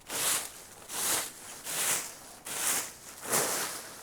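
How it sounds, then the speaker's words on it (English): Five rhythmic, breathy scrapes repeat about once per second, a bristly sweeping rasp like a rake dragging through dry leaves, close by with no voices. "That is the sound of somebody raking the leaves."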